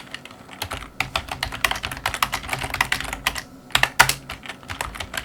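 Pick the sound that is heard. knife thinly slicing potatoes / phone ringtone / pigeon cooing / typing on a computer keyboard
typing on a computer keyboard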